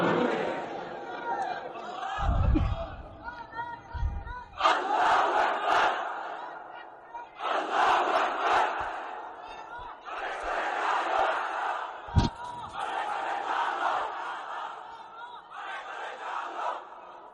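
A large crowd at an Islamic gathering roars a takbir chant in answer to a preacher, several loud sustained waves of massed voices separated by brief pauses.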